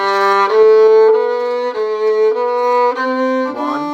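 A bowed violin plays a simple, slow line of held notes, each lasting around a beat or more, clear and close with no other instruments.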